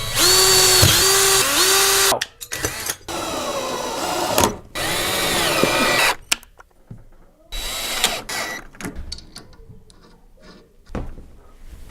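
A power drill bores holes into a mic boom arm mount, whining in bursts that start, stall and rev again with short pauses between, close and loud, alongside some clicking of the tool.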